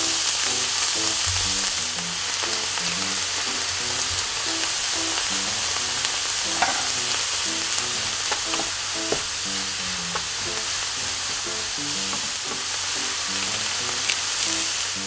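Bonito flakes stir-fried in sesame oil sizzle steadily and close, with a continuous crackling frying hiss and frequent soft scraping stirs throughout.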